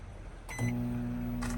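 A microwave oven powered by a Bluetti power station with a 2,000-watt inverter inside a campervan gives a short beep, then settles into a steady, close electric hum.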